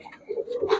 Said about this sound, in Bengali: দেখেন 4টা কবুতর, 4টাই চটবানের কবুতর, পুরান জাতের।